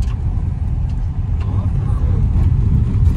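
A car rolls up close by with a steady low engine rumble throughout, a slight rise in level toward the end, and faint background voices.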